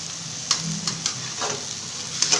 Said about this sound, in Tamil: இப்போ இதில் கருவேப்பிலை சேர்த்துக்கிறோம்.